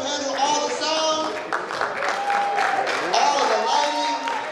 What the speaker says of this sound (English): We want to clap up for Mr. Jones, who handled all the sound